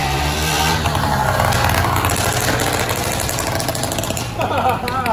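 A loud, rough exhaust from a bicycle converted into a motorcycle, running close by in a steady, raspy drone with voices talking over it.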